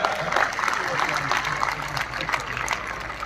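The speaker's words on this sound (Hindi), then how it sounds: "एक बार सभी स्टूडेंट शंभू दयाल की मैनेजमेंट के लिए भी जोरदार ताली बजाओ।" Students clapping for the school management at a scholarship test grand final in Sonipat, a dense, steady crowd applause that runs throughout with a murmur of voices beneath.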